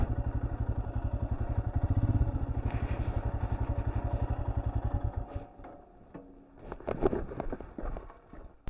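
A solo motorbike rides over riverbed rock and gravel on New Zealand's West Coast, its engine chugging in a steady thumping rhythm that fades after a few seconds into rattling, crunching clatter.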